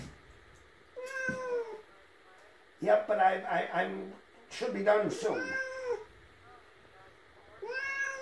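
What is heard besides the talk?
cat meowing at the vet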